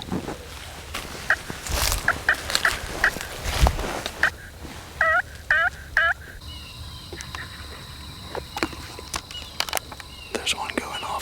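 Wild turkeys gobble in several rapid, rattling bursts, some near and some farther off on public land, with clucks and yelps between them and whispered talk underneath.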